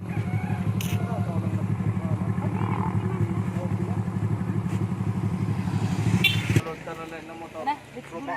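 A motorcycle engine drones steadily nearby for about six seconds, then fades into quieter clatter at a roadside in the Philippines.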